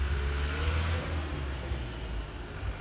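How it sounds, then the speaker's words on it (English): A Ural 375D military truck engine runs with a steady, heavy low rumble that swells slightly at first, then holds close and loud with no talking. "you'll listen to the sound of the engine of this really beast car."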